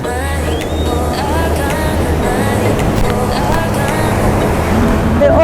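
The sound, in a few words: big ocean waves on the Pacific shore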